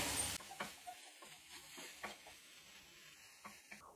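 Masala and potatoes sautéed in a pan over a low flame: soft, scattered scrapes and stirs with a faint, quiet sizzle beneath, close by and without talk.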